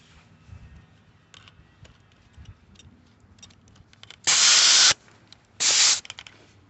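Air compressor hose filling an all-terrain tire that was under 40 psi, giving two loud, close bursts of hissing air, the first about half a second long and the second shorter, after quiet handling noises.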